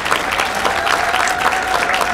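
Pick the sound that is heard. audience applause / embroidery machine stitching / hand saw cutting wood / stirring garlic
audience applause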